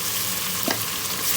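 Garlic ginger paste sizzles as it hits browned onions in a pan for daal maash, a close, steady frying hiss with a brief stirring scrape partway through.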